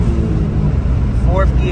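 A Suzuki Alto RSR accelerating in third gear, a loud, close engine drone with a rising whine near the end, heard from inside over road rumble.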